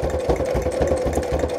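A sewing machine runs a straight stitch through a junk journal signature, its fast steady pulsing rhythm close and loud without pause and with no talking.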